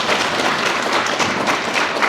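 Meeting attendees at an annual general assembly clap together to pass a proposal, a dense, steady wash of applause filling the room at close range for the whole stretch.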